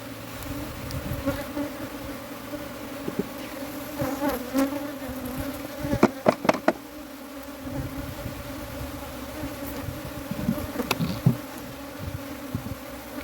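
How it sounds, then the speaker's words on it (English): Honey bees buzz in a dense, droning swarm close by as they gather onto a newly split hive during a bluegum flow, with individual insects flying past louder now and then. "these bees are all collecting nicely onto the hive"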